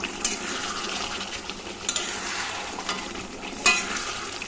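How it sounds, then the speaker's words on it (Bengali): Chicken kosha being fried and stirred in a pan, giving a steady close sizzle with occasional scrapes and clinks of the spoon against the pot; no one speaks. "এখানে চলছে চিকেন কষা।"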